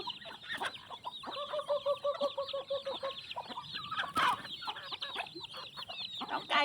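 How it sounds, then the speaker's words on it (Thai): Free-ranging village chickens at dusk cluck steadily nearby, with rapid repeated clucks and a few louder squawks layered into a constant, lively chatter. "ดูสิคะน้องไก่ยามเย็นๆวันนี้นะคะ น้องไก่ก็มาอีกแล้วค่ะ"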